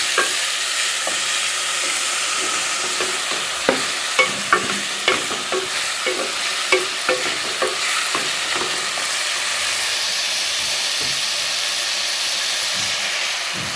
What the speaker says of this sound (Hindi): साथ में टमाटर डाल दूँगी और साथ ही आलू डाल दूँगी। इसे अच्छे से फ्राई करूँगी।